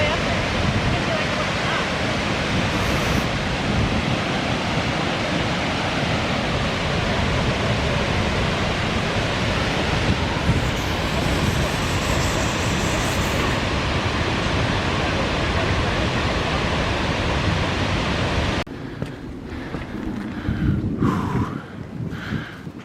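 Skogafoss waterfall in Iceland roars as a loud, continuous broadband rush of falling water close by, with a brief shift in texture near the end.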